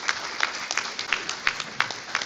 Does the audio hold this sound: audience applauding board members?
yes